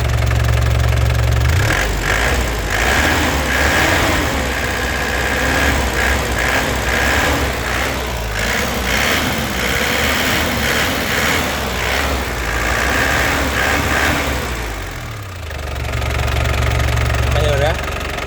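A 2010 Touring turbo with a manual gearbox, its engine idling and then revved, a loud, close, rumbling drone that rises and falls over several seconds before settling back, while someone talks over it.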